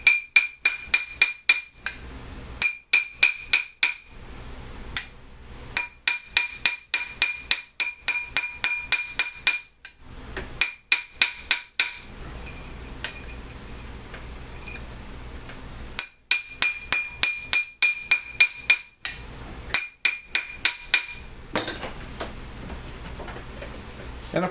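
A heavy silver ring is struck with a hammer on a steel mandrel, sharp metallic ringing blows in quick bursts of several strikes separated by short pauses, close and loud.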